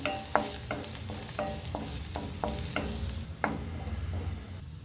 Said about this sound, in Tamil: பூண்டு எண்ணெயில் நல்லா ரோஸ்ட் ஆகிடுச்சுங்க